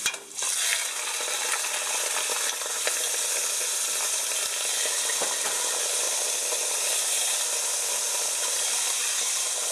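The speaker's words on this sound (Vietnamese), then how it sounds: "con mực chiên sơ nó" A steady, loud sizzle of whole squid frying in a hot pan, crackling and hissing continuously without pause.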